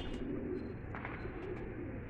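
Soft, low cooing of a six-year-old pigeon rumbles steadily under a constant hum of background noise, with a few faint higher bird chirps breaking through.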